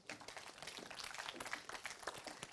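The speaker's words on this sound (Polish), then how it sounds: "Brawa wielkie." An audience at a Polish debate applauds with scattered, steady clapping, moderately distant and fairly quiet.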